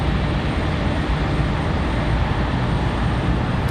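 An American Airlines Boeing 737-800 arriving at Raleigh-Durham airport on a windy day, its engines making a steady, loud, broadband roar that stays even throughout with no voices.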